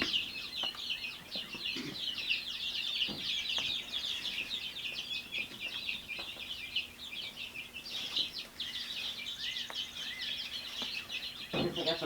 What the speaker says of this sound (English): I guess I got some roosters.